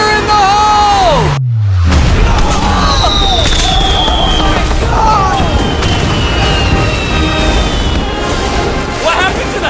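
A huge mass of fireworks goes off inside a house, a dense, loud, continuous roar of bangs and crackles with whistling rockets rising, after an early deep boom, while people shout and whoop over it.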